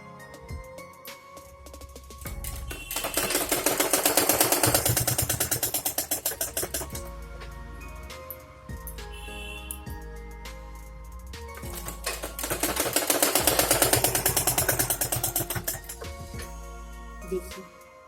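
Sewing machine stitching a boat neck suit, running in two long bursts of rapid, rattling needle strokes with a quieter pause between them, close and loud, with no talking.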